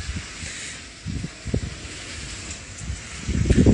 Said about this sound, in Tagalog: Grabe ang hangin. May kasamang hangin.